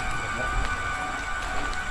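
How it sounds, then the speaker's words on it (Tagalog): Steady hiss of rain at night in a cemetery, with a low rumble beneath, continuous and fairly faint over two seconds. "Umuulan ngayon"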